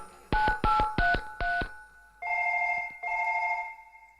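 A telephone rings in four short, loud bursts, followed by two longer electronic tones like a ringback or dial tone during a call, with no talking.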